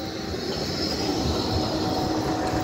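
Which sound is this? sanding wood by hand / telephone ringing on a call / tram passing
tram passing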